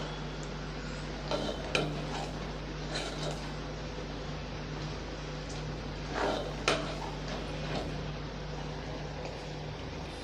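Aval pongal, a flattened-rice dish, being stirred in a cooking pot: a steady low hum and faint broadband wash, broken by a few soft scraping and clinking strokes of a utensil against the pot.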